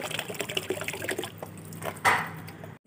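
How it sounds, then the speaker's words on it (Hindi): Water poured into homemade banana peel liquid fertilizer in a container, a close trickling and splashing pour with small gurgles, ending in a brief louder splash before stopping. "थोड़ा सा पानी इसमें हमको और मिलाना है अभी।"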